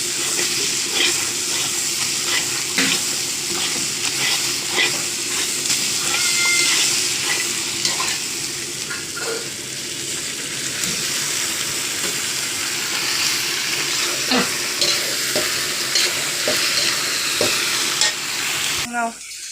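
Chicken pieces fry and sizzle in a thick, reddish spice masala for a Bengali chicken curry, a steady close crackling hiss broken by repeated scraping stir strokes and occasional clinks, with no talk.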